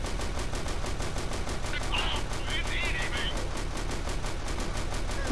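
Rapid, steady automatic gunfire in a Warhammer shooter game, a continuous rattling burst of evenly spaced shots running throughout at close range, with a brief chirping sound partway through.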